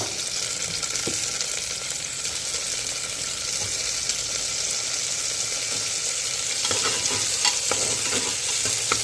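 Onion, garlic, chili and potato for khichdi fry in a pan, with a steady close sizzle and scraping stirs running throughout, alone without talk.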